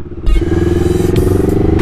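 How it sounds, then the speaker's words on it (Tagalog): An NK400 motorcycle speeds off, its engine revving up into a loud, close, steady droning roar with a pulsing rhythm that carries to the end. "Ang bilis umibat na itong motor na to."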